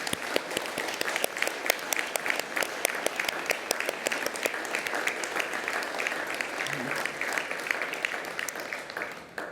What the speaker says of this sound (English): Please join me in applauding the wonderful achievements of our graduates.